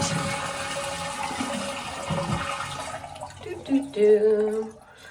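Water rushes out of a toilet tank in a steady flushing drain, then gurgles and fills briefly, fairly close and loud throughout.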